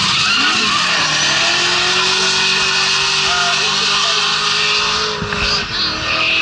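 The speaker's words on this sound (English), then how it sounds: "still just struggling a little bit on that final corner, trying to get that car slowed down for the final turn" A race car at Tunerfest brakes hard into the final corner, its tires squealing and skidding in a sustained loud screech over engine roar, with a commentator speaking over it.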